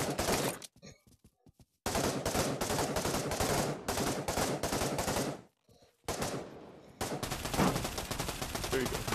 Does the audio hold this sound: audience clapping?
no